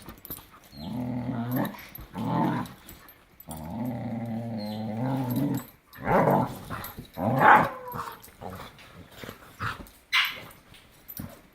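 Dogs growling and snarling in a scuffle, with harsh, drawn-out vocal bursts in uneven clusters. The sound is close and fairly loud, with short pauses between flurries and no talk over it.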